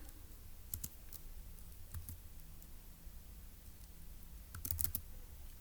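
Keys tapped on a computer keyboard while puzzle notes are typed, giving a quiet scatter of light clicks at about 1 and 2 seconds and a denser brief burst near 4.7 seconds over low room hum.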